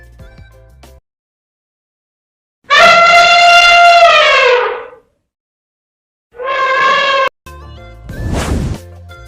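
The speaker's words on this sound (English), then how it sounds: "E for elephant." An elephant trumpets twice, a loud, long brassy blast followed after a pause by a shorter one, with brief unrelated sounds before and after.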